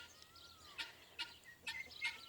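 A guinea fowl calls from a farmyard shared with chickens and ducks, giving a few sharp, harsh squawks spaced about half a second apart, faint and somewhat distant over quiet background.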